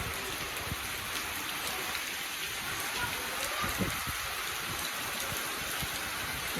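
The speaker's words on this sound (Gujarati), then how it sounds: "વરસાદ આવી ગયો છે જોરદાર." Heavy rain pours down on a farm in a dense, continuous hiss of drops. It sounds close and unbroken, with faint pattering on surfaces throughout.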